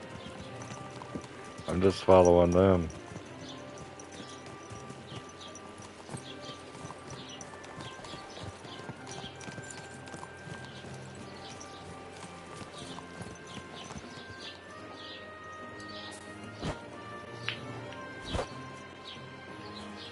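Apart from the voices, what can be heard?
horse hooves while riding, from video game Kingdom Come 2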